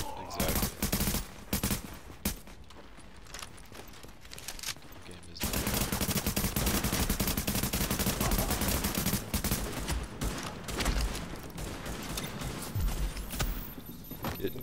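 Gunfire in a shooting video game aimed at a supply drop, with scattered shots early on and then a long, dense stretch of rapid automatic fire, while players talk over it.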